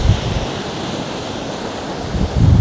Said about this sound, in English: The waves yesterday were a lot choppier than this.